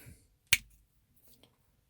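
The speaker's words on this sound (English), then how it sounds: "I'm going to try this YouTube magic where you just snap your fingers" A single sharp finger snap rings out close and clear in a quiet room, followed by faint rustling and a soft tap; no one speaks.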